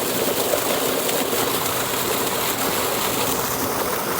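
A belt-driven water pump motor drones steadily alongside rushing, splashing water, a loud continuous wash of noise with no pauses and no voices.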